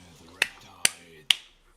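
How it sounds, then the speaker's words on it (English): Three sharp, evenly spaced claps ring out close and loud over a quiet background during a livestream of a Legion TD 2 ranked match. "That is me clapping."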